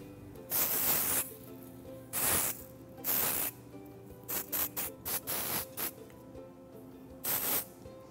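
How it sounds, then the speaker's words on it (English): Several hissing bursts from an aerosol can of hair spray, some long and some in quick short puffs with pauses between, close by and fairly loud, no talking. "As I'm spraying in the product"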